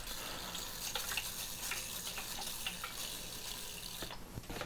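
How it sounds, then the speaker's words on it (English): Water pours from a tap or container onto freshly planted Nepenthes (pitcher plant) seeds, a steady splashing trickle with small irregular drips and no talk. "Just going to give them a decent amount of water just to pack everything down."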